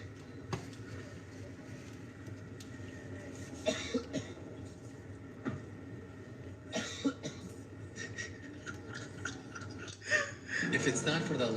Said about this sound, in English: The way he's so disturbed by the coughing.